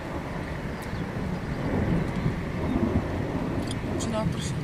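Thunder from a Moravian thunderstorm rolls as a low, broad rumble that builds and holds, heard outdoors at a distance.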